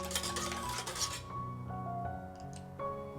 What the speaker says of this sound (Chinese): 搅拌至糖完全融化